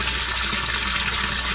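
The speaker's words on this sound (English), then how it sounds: "So right now I'm just using the garden hose to do the test" Water runs from a garden hose into a three-barrel koi pond filter, a loud, steady gushing and splashing rush that stays close and even throughout, with no voices.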